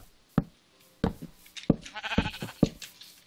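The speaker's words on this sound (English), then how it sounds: "Get out of here, Mr. Sheepy Sheep." A sheep in the video game Minecraft bleats several times in short, loud, separate calls, with soft knocking clicks between them and no talking.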